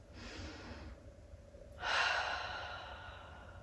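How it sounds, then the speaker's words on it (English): Deep breathing during a calming yoga practice: a slow inhale, a pause, then a long, louder exhale close to the microphone. "taking some deep breaths"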